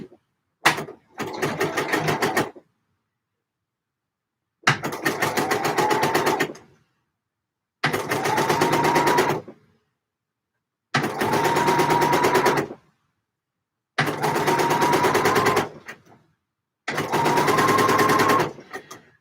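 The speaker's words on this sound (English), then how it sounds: "let's get this bias binding sewn." A sewing machine stitches bias binding onto a Sew Over It Eve dress in seven loud, close bursts of rapid whirring, separated by short silences.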